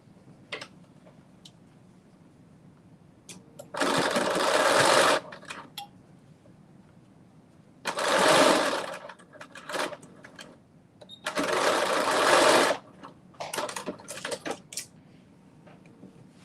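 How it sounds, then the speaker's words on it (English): A sewing machine stitches a knit dress armhole seam in several loud whirring bursts of a few seconds each, separated by quiet pauses with faint clicks and handling. "I am going to just stitch at 5/8 of an inch seam allowance"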